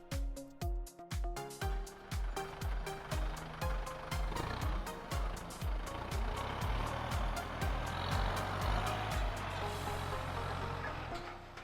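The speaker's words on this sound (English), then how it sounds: "Crane forklift." A crane forklift gives off a regular series of loud reversing beeps over a rumbling engine that swells and then drones steadily as the machine moves.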